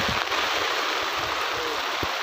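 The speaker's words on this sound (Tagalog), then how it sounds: "Grabe, oh. Ulan na." Rain falling at a mountain campsite during stormy weather, a dense steady hiss with occasional low thumps nearby, constant and fairly loud.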